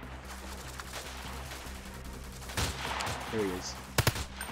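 A weapon in the Freeman: Guerrilla Warfare game fires a quick pair of sharp, loud shots near the end, after someone speaks briefly over a low background hum.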